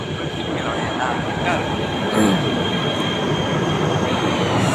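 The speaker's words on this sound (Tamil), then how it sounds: "நம்ம ட்ரெயின் வந்துருச்சு" A train rumbles and rattles close by as it pulls into a station in Kuala Lumpur, with faint wheel squeals and a steady mechanical drone, no talking.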